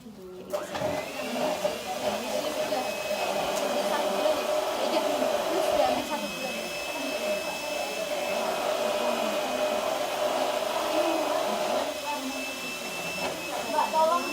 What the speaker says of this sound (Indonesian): Nah, ini kita mixer dulu.